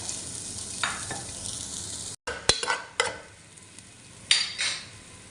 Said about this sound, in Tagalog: Gisa natin. Ligay na nga po natin yung sibuyas.